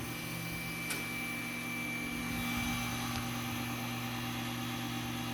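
The pump of a single-chamber tabletop vacuum packaging machine running on 110-volt single-phase power gives a quiet, steady mechanical hum that stays even throughout, with faint ticks.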